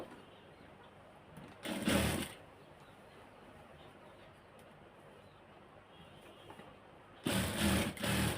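Two short runs of a sewing machine stitching fabric, a brown and a red dress piece, each a loud mechanical whir lasting under a second, separated by several seconds of quiet room noise.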